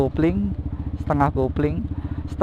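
A manual-clutch motorcycle idling with a steady pulsing engine rhythm up close while shifting into first gear, under someone speaking.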